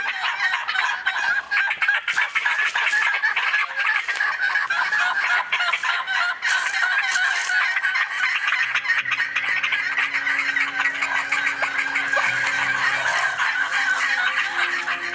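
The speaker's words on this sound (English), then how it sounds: "Can you hear the turkeys?" Loud, dense wild turkey calling fills the scene, many overlapping gobbling and clucking cries continuing without pause, joined by lower calls toward the end.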